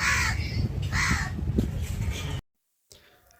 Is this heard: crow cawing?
yes